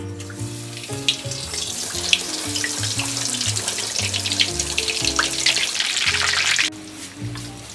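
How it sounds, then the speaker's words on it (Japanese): Frozen minced meat cutlets deep-frying in oil over medium heat, a steady dense crackle and hiss that runs unbroken throughout at close range, overlaid by low musical tones that cut off shortly before the end. "冷凍して保存していたミンチカツ揚げていきます"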